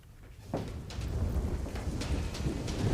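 Heavy rain pours steadily during flooding, with low rumbling thunder rolling underneath, dense and continuous with no voices.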